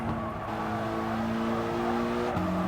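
A Group 4 race car in Gran Turismo Sport runs the Nürburgring GP circuit, its engine droning steadily at high revs and shifting pitch near the end, loud and continuous.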